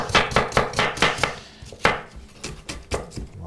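Knife chopping food on a cutting board while preparing a chicken terrine, a steady run of about a dozen sharp, close chops with no talking.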